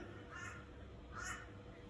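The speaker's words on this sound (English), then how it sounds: "you can hear the crows" Two distant crow caws in Australia, faint over a steady outdoor hiss, spaced about a second apart.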